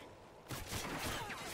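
Video game gunfire from behind the player, a burst of sharp shots starting abruptly after a quiet moment and continuing as a rough, moderately loud clatter.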